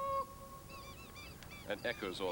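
A long, tonal whale cry with rising and falling harmonic sweeps, echoing off cliffs and fading, followed by several short higher calls against a steady background hiss.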